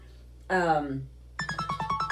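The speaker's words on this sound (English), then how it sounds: "my phone is ringing" A mobile phone ringtone chirps in a quick run of repeated electronic notes after a brief sung tone, loud and close in a quiet room.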